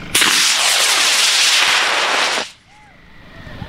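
Two model rockets launch together in a drag race, a loud close roaring whoosh that lasts about two seconds and then cuts off sharply, leaving quiet outdoor background.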